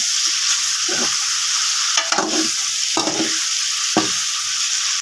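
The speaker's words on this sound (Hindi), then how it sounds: "ये 5 से 6 मिनट इसको भूनने के बाद हल्का हल्का ब्राउन हो जाए" Chicken fries in a pan for nihari, giving a loud, steady sizzle. A spoon scrapes through it about once a second, four times.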